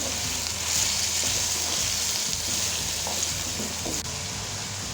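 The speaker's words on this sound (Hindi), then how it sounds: "अभी इसको हल्के से इसको मैं मिक्स करूँगा।" Mutton karahi masala with tomatoes, garlic and ginger sizzles steadily in a hot pan as it is stirred, a continuous close frying hiss with soft scraping movements throughout.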